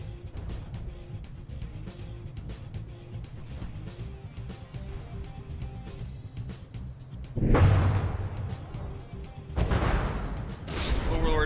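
Ship cannon volleys in the naval combat game From the Depths, with an ongoing rumble of gunfire throughout and two loud, broad blasts near the end, the second followed by a rising burst.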